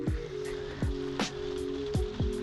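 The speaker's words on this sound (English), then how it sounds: "I got to wait for the rain to stop." Rain falls steadily outside a 1991 Ford E350 motorhome, a soft constant patter with a few louder drips striking nearby at irregular intervals.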